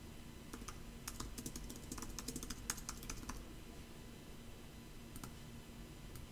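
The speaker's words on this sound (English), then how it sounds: "and type it in." Quiet, close typing on a computer keyboard, a run of quick irregular key clicks that thins out partway through, followed by a few more taps near the end.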